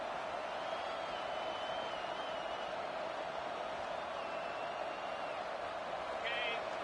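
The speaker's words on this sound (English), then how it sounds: "Now the crowd responding in the red zone, trying to help this defense" Stadium crowd noise in the College Football 25 video game, a steady dense roar of fans in the red zone running under continuous play-by-play commentary.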